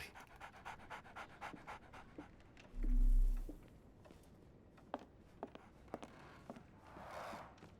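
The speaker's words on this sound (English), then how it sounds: "So, Barnes has a dog now." A dog pants rapidly and steadily in the Sherlock Holmes The Awakened video game, close and fairly quiet, with a brief low rumble and scattered faint clicks in the background.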